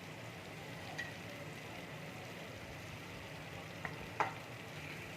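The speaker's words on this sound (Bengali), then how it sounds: "মশলাটাকে ভালো করে ভেজে নেবো" Masala sizzles softly in a pan for chingri malai curry with coconut milk, salt and a little sugar added, a quiet steady frying hiss broken by a few faint spatula clinks.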